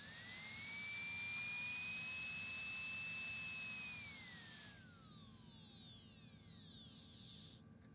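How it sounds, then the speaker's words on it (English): 850 rotary engraving handpiece plugged into an engraving machine runs at speed with a high, steady whine, then winds down in a falling tone before stopping near the end. "It plugs into the back of the machine, and then when you turn up your auxiliary, you'll hear it start to run."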